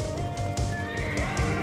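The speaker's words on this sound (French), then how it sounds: "Bon, les chevaux, normal, pourquoi pas mettre des chevaux," Horses neighing and whinnying inside a Q-pop music track, the whinnies loud and up close over a dense musical bed with faint clip-clop.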